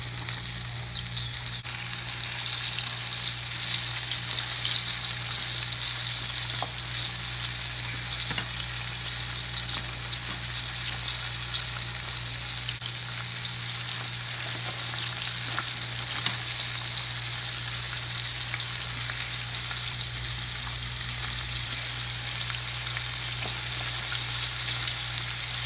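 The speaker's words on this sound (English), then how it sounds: "Okay, so I'm putting these in the oil." Chicken pieces for orange chicken frying in hot oil, giving a steady, dense crackling sizzle that holds evenly throughout with no talking.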